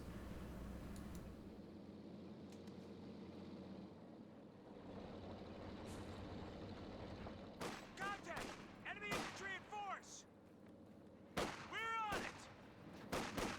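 Battle sounds from a Company of Heroes 2 match: a low rumble of vehicles with scattered rapid gunfire bursts growing denser and louder toward the end, under a caster's commentary.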